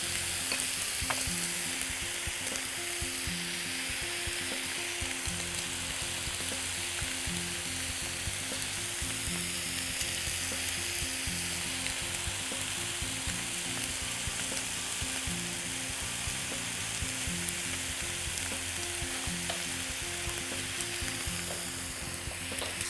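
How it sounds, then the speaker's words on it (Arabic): Tomatoes fry in olive oil with a dense, continuous sizzle and crackle that holds at an even level throughout, close by and with no voices. "زيت زيتون بسيط ونقوم حاطين الطماطم"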